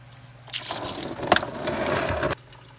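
Coolant gushes from the opened radiator drain of a Nissan Maxima, a steady splashing pour of about two seconds with a brief sharper spatter in the middle, close by and alone.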